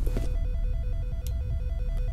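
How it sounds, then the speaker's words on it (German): A telephone rings in the first-person shooter game F.E.A.R. as a steady train of evenly spaced electronic pulses, continuous and moderately loud over a low rumbling game ambience. "Ich habe ein Telefon gehört"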